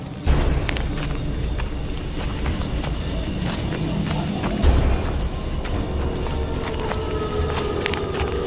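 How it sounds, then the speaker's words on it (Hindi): Several footsteps shuffle and tread through a dense jungle in a Hindi horror story, as if many people are gathering around, set against a steady, rumbling, noisy ambience with scattered soft thuds. "तभी उन्हें अपने आसपास पैरों की आवाज सुनाई देती है"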